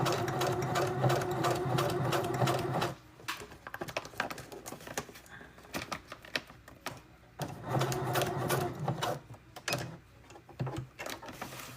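A sewing machine stitches fabric in rapid mechanical bursts, a loud whirring run, then a pause and shorter start-stop stitching, with light clicks between runs and no talking.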